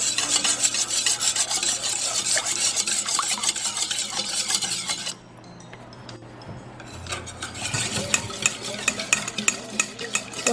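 A spoon or whisk stirs melted butter, sugar and egg in a bowl, a steady scraping, rubbing rhythm that drops quieter partway through and then picks up again, close and with no talking.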